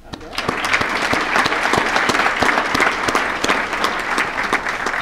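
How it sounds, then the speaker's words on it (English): Sustained applause from a dinner crowd honouring bowling Hall of Famers at the St. Louis USBC Bowling Hall of Fame dinner, steady and full with sharp individual claps throughout. "I'd just like to have a round of applause for all of the Hall of Famers that we have in here."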